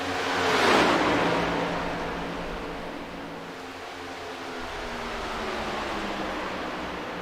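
Three stock cars race at Daytona in a sim racing game, their engines blending into a continuous loud roar that swells early and then holds a steady droning hum throughout, with no talking.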